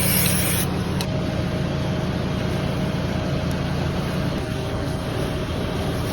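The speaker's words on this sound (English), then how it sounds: "spraying them so they know which one they've just injected" Marker spray being applied to calves on a farm during dehorning prep: a steady, loud hissing rush running throughout, with a brief sharper burst at the start and no talk.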